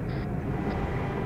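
A helicopter in the ArmA 3 game gives off a steady low engine drone at moderate volume, with a faint brief higher tone over it and no talking.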